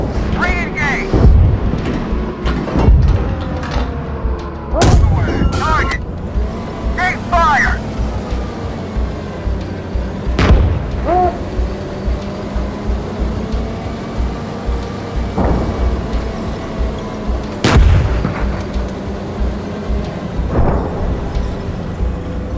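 Cannon fire from an M60A1 tank in the GHPC combat game, with several loud, sharp booms spread across a busy battle soundscape of rumbling engines and crew voices calling commands between the shots.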